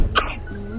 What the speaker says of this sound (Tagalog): Lahat sila may mga ubo